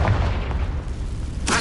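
A Confringo fire spell bursts in Hogwarts Legacy with a deep rumbling boom that fades out, then a sharp crack lands near the end, with no talking.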